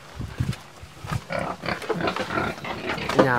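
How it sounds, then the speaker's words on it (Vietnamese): Two fairly large pigs on a rural Vietnamese homestead grunt and snort in a run of irregular, close bursts, some louder squealing tones near the end, with no talk over them. "Nhà của ba ông cháu thì có thêm hai con lợn và cũng khá là to cô bác."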